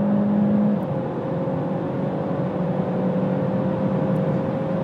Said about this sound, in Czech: Tak jedeme 80 a dáme plný plyn teď.